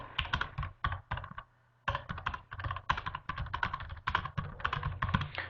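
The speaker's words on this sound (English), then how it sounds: "So if I just begin to type," Typing on a computer keyboard in a remote desktop session, bursts of rapid close clicks and key thumps with one brief pause, fairly loud and without any voice.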